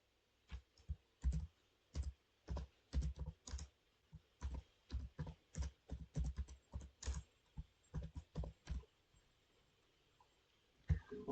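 Keys clatter on a computer keyboard in quick bursts of typing separated by short pauses, close and fairly quiet, with a final pair of louder keystrokes.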